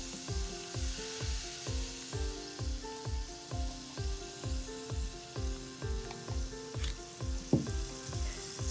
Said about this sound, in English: it looks like it is dissolving and it's still sizzling